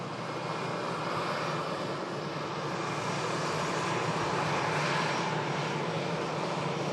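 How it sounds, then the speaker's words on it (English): An EasyJet airliner arriving from Lisbon gives a continuous broad jet roar, steady and fairly distant, swelling slightly over several seconds with no talking. "EasyJet arrived in from Lisbon."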